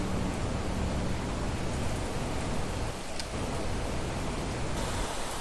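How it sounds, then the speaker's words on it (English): Steady, dense hiss of rain in the video game Planet Crafter pours continuously throughout, even and unbroken, with a slight dip in intensity midway. "Oh, no, it's raining."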